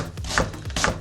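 A knife chopping small onions on a cutting board, two crisp close chops with a slice through the layers, each ending in a firm knock on the board.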